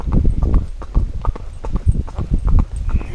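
A ridden horse walks toward a country church, its hooves striking the ground in a loud, close, steady clip-clop rhythm that continues without a break.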